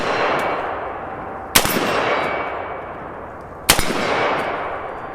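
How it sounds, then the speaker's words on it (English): Rifle bullets striking a steel target at night, two sharp ringing metallic impacts about two seconds apart, each decaying into a rough broadband wash, with no talking. "Seems like it's smacking that steel."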